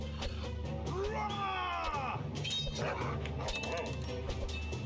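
A dog enemy in the tower-defense game Kingdom Rush yips and barks in quick bursts over busy game music and effects, with someone talking throughout.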